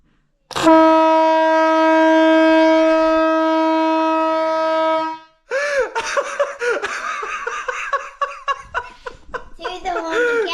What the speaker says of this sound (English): And we are going to try this Foghorn.